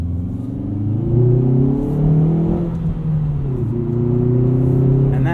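A 2019 Hyundai Veloster Turbo R-Spec's 1.6-liter turbo engine revs up through the gears with a B&M short shifter, the droning pitch climbing, dropping at a shift and climbing again, loud and steady from inside the cabin.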